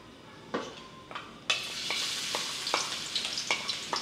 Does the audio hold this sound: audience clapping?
no